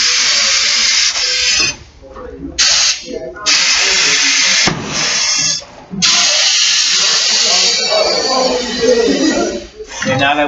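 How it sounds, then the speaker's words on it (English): Air hisses steadily out of a tire being deflated during tire service, a loud continuous spray broken by several short pauses, with a voice talking over parts of it. "we're going to allow this to air out a little bit before we break the outer bead"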